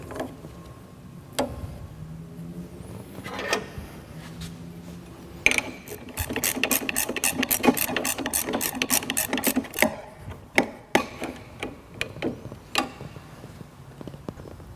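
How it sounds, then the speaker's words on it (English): Wrench tightening a nut on the wheel post of a Laguna 14CX bandsaw, close ratcheting clicks coming in a dense fast run mid-way, then a few scattered single clicks, no talking. "tighten it down with either a 3/4 inch wrench or a 19mm"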